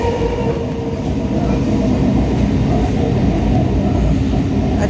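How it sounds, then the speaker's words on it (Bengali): A passenger train runs between Chandannagar and Howrah, heard from inside a carriage as a loud, continuous rumble with dense rattling and rail clatter that never lets up. "আমরা ট্রেনে এখন বসে পড়েছি।"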